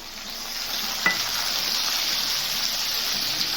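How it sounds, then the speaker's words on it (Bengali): Onion paste sizzles steadily in hot oil in a pan alongside chopped tomato, a continuous close frying hiss with one brief clink or stir near the start. "একটা বড় সাইজের পেঁয়াজ বাটা দিয়ে দেব"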